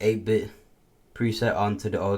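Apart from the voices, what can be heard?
No everyday noises stand out.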